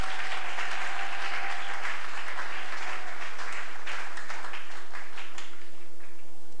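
A church congregation at a convention opening service bursts into sustained applause, a dense wash of clapping hands filling the room for about seven seconds with no voices over it.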